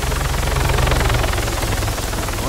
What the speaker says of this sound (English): Yeah, that's chopper dropped somebody off.